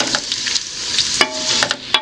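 Garlic and ginger frying in a pot with a steady sizzle, broken by several sharp scraping clinks of a spoon stirring against the metal.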